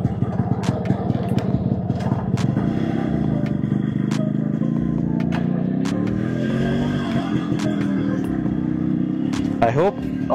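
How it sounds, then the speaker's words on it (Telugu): A Yamaha RX100 two-stroke motorcycle engine runs steadily and close by for about ten seconds after a kick start, its rough idle turning into a rising rev near the end, with faint clatter but no talk. "బైక్ ఇది కూడా వినిపిస్తా మీకు"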